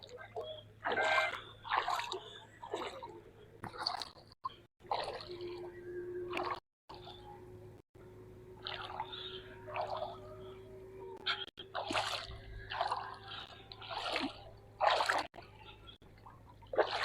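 Wading across a shallow channel of the Kosi river between farm fields, with soft water sloshing and trickling under steady outdoor talk and background noise.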